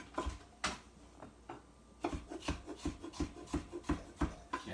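A kitchen knife slices peppers into strips on a cutting board, producing a series of close, crisp taps and scrapes that quicken into a steady chopping rhythm.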